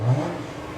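A Cadillac CTS V-Sport engine revs once near the start, a short rise and fall, then settles into a steady idle hum with the RPM limited to 3,000.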